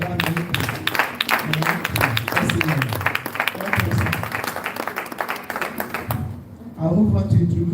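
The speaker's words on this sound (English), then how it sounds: "let's give a big round of applause to welcome Professor Theodore Bala-Malika" An audience at a legal institute's founders lecture claps to welcome a professor, a dense burst of hand claps mixed with talking and crowd noise, fading out near the end as a low murmur remains.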